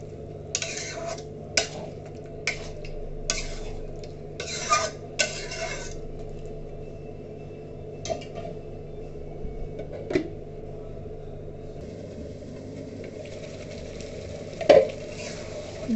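Dal cooks with a fish head in a pan, a spoon stirring and scraping through it in short bursts over a low, steady sizzle, with scattered light clinks of metal and no voices.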